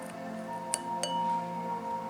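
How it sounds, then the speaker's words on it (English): Small glass marbles set into a succulent terrarium give two bright, close clinks about a third of a second apart over a low steady hum. "place these little glass marbles here."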